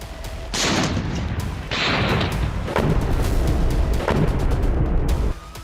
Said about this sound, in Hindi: टैंक और तोपें गरज रही है।